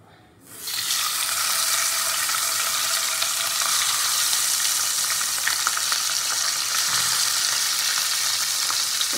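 Pabda fish slipped into hot salted oil in a kadai set off a sudden loud sizzle that holds steady and crackling, with faint stirring clinks.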